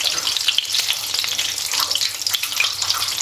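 A hotdog fries in a pan with a steady, dense crackling sizzle that holds close and even throughout, with no talking over it.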